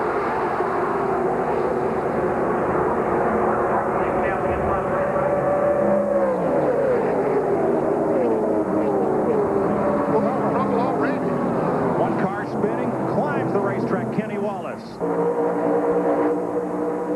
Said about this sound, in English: Jeff Gordon and Kenny Schrader will bring them down for 125 miles, 50 laps.